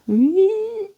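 A voice imitates a cat's snore with one drawn-out, nasal, buzzing sound about a second long, close and fairly loud.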